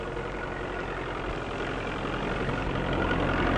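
A 1943 farm tractor pulling a four-furrow plough, its engine running with a steady, loud, low rumbling drone throughout and no talk.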